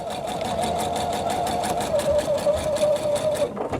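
Close, steady sewing machine hum with a fast rhythmic needle patter, running continuously as a quarter-inch seam is sewn down quilt fabric.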